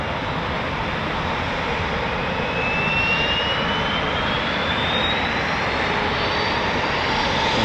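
Rolls-Royce jet engines of a Eurofighter Typhoon FGR4 at an RAF station, a loud, steady, close roar with a rising whine that holds for the whole stretch, no voices.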